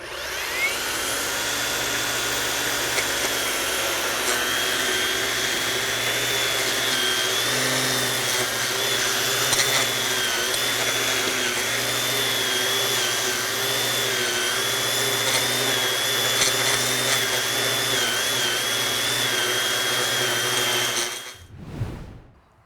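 An EGO Multitool cordless edge trimmer cuts lawn edges with a loud, steady high-pitched motor whine and whirring line, running continuously up close for about twenty seconds before shutting off abruptly at the end.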